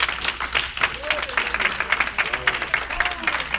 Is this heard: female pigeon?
no